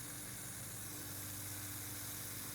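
Tuman mist irrigation hose set to its narrowest spray width, about 60 cm, giving a steady, even hiss of fine water mist that runs unbroken and fairly quiet throughout.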